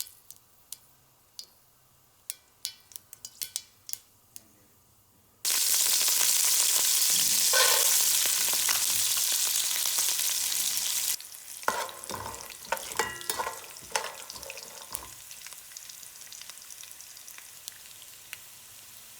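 Mustard seeds, green chilies, peanuts and mint frying in hot oil, with scattered sharp pops and taps, then a loud, steady sizzle, followed by stirring clatter and crackling, all close up without speech.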